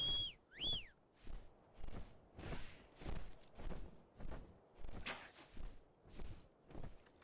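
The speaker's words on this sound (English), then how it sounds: "Okay, Ghost, hit the whistle button." In the video game Dark and Light, a short rising two-note whistle sounds at the start, followed by a steady run of soft footstep thuds.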